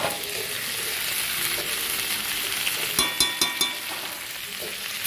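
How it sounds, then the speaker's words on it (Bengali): Spices are stirred into shukto, a Bengali vegetable dish, as it fries in a pan. A continuous close sizzle runs throughout, and a quick run of four or five spoon clacks scrapes against the pan partway through. "মশলাটা আমি ভালো করে নেড়ে চেড়ে মাখিয়ে নিলাম।"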